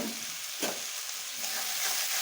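Chopped green chillies and tomatoes stir-fried together in a pan for homemade veg and egg chowmein, giving a steady close sizzle with a brief scraping stir partway through.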